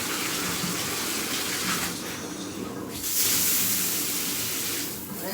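Bath water runs steadily from a tap into a tub during a bath, a continuous close gushing wash that swells louder toward the end, with no talk over it.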